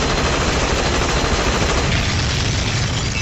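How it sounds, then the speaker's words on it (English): Rapid, sustained machine gun fire from an anime fight scene, a dense unbroken burst of loud shots running the whole length with no voices over it. "a machine gun isn't enough to stop a vampire, as Straight simply gets right back up"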